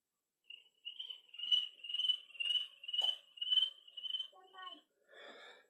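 A person imitates crickets by whistling inward, producing a rapid series of high, pulsing chirps in close succession, close and fairly loud, with breathy sounds at the end.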